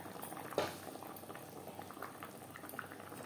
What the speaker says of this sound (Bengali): 2-3 মিনিট গ্রেভি বেশ ভালো করে ফুটিয়ে নেওয়ার পর